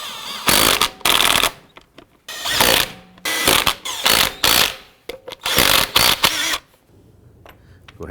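A power impact tool snugs down the wheel lug nuts on a Dodge Durango. Loud, close bursts of rapid hammering whir start and stop repeatedly, about six pulls in a row, then the tool falls quiet.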